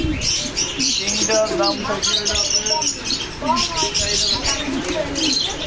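King and Lakka breed pigeons cooing and chirping in a loft, with soft, repeated coos layered under steady background chatter and someone talking nearby throughout.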